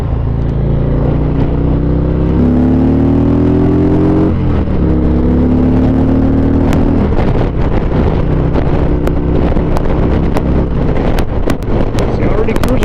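Harley Davidson Ultra Limited motorcycle cruising at highway speed around 75, a steady loud engine drone with rising and shifting tones under heavy wind buffeting, continuous throughout.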